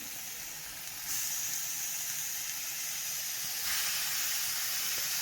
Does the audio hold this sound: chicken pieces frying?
yes